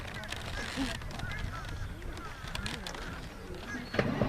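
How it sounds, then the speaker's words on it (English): Geese honk near a lake, a few nasal calls scattered through an outdoor scene with faint background noise and a louder honking burst near the end. "Look, there's some more birds."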